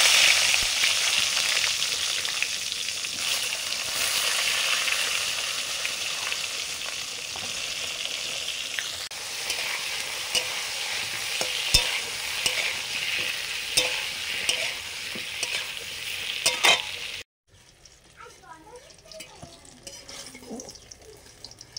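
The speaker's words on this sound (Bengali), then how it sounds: "বেগুন ভাজবো, সর্ষের তেল দিলাম, তেলে অল্প একটু হলুদ দিয়ে বেগুনটা দিয়ে দিচ্ছি।" Eggplant frying in mustard oil with turmeric, a loud, crackling sizzle with occasional stirring clicks for most of the time, then dropping abruptly to a much quieter sizzle near the end.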